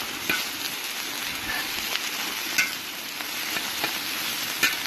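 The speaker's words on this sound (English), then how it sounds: "By the time I got the rest of the bacon in there, 60 seconds or so, kind of cooked it up." Bacon sizzling loudly on an outdoor cooking disc, a dense continuous crackle with periodic scraping taps from chopping and stirring with a spatula.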